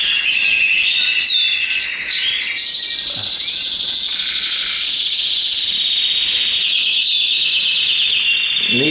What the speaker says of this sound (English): These are the topazes I just got shipped in